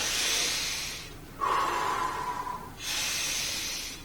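A deliberate deep inhalation during a breathing exercise for voice and public speaking, a drawn-in breath through the nose and mouth that swells steadily for over a second, set between stretches of quiet breathy hiss.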